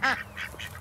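Ducks, including a broody hen, quack a few times in quick succession by their pond, close and fairly loud, with a raspy nasal tone and no talking.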